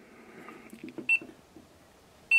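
A VenStar ColorTouch thermostat gives two short, clear electronic beeps as its menu button is pressed, the tones about a second apart and close by over a quiet room background.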